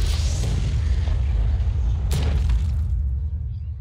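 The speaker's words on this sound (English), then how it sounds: "The explosion should be enough to annihilate all reds." A deep, booming explosion from the Hearthstone Mercenaries video game rumbles loudly with a sharp burst partway through, then fades away into quiet at the end.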